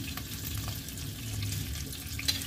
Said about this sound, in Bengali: এবার এই তেলের মধ্যে আমি প্রথমে দিয়ে দেবো জিরে, তারপরে একটু মৌরি